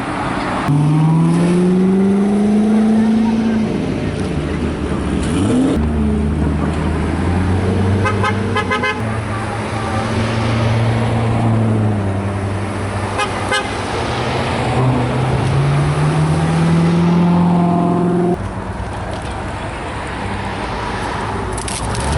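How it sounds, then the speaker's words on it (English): Parade of Corvettes rolling into Newton, Illinois for a cruise-in fun run, with loud engines passing close by, a steady stream of cars throughout and several horn toots along the way. "So we're gonna see a whole bunch of cool Corvettes coming into town any minute."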